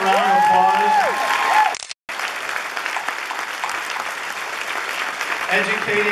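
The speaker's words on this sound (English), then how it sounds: "Can we give her a round of applause?" Convention panel audience breaks into loud sustained applause and cheering, with a speaker's voice heard at the start and again near the end.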